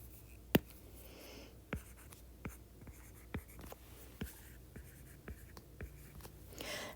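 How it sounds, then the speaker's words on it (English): Marker or chalk tapping and stroking on a board, a series of short, sharp, evenly spaced taps and scrapes, close and fairly quiet, with no talking. "I'm just going to write up here."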